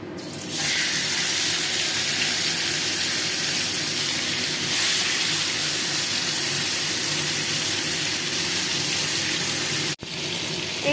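Marinated chicken pieces frying in hot oil for a chicken fry make a dense, continuous sizzle close by, with a brief break near the end and no talk.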